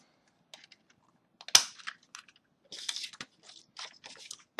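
A 2.5-inch circle punch cuts through paper with one sharp crunching snap, then softer crunches and handling noises follow in a quiet room.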